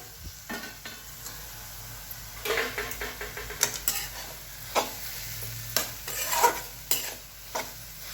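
Radish chutney cooking in a pan over a low gas flame, with a soft steady sizzle under repeated close stirring and scraping strokes of a spoon against the pan.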